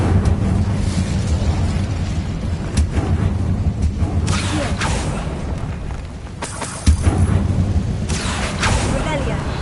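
The fiery Incendio spell in Hogwarts Legacy bursts in several booming, whooshing blasts spread across the stretch, loud and near, amid a constant bed of game ambience.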